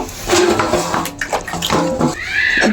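Water splashes and gurgles into a cooking pot with potatoes for boiling, loud and close, pouring unevenly in bursts for a few seconds.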